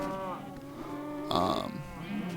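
A cow in Minecraft lets out a short, mid-pitched moo partway through, over a steady tonal background, with no talking.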